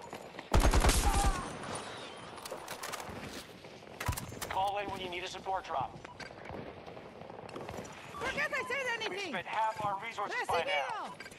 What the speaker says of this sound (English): Where's that guy that was shooting at me?